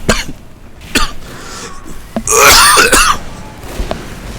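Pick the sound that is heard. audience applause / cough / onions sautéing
cough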